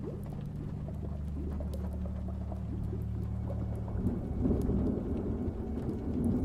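A steady wash of rain pours down with a low, rolling rumble of distant thunder that swells and deepens partway through, constant and moderately loud.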